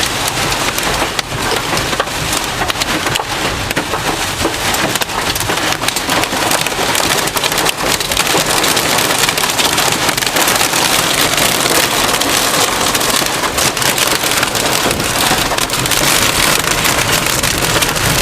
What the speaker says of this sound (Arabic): عاصفة غير عادية، عاصفة غير عادية